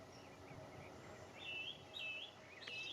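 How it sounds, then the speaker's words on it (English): A song thrush and a blackcap sing from bushes by a river near a heronry hide on a summer day, their thin, faint phrases repeating in short bursts over a steady outdoor background hiss. "I can hear a song thrush and blackcap in the bushes"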